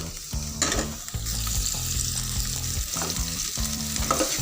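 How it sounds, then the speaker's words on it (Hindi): Onions frying in hot oil in a pan, a steady close sizzle with stirring and scraping bursts against the pan, continuous throughout with no voices. "प्याज डालने के बाद आपने इसको अच्छी तरह फ्राई कर लेना"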